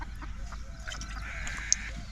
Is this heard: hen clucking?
yes